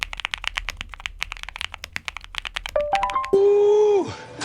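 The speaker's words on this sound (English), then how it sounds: "Now that's the sound of a low profile keyboard." Rapid typing on a Newfie Air 75 V3 low-profile keyboard, a steady run of close, crisp key clicks for about three seconds, then the clicking gives way to a sliding, rising whine.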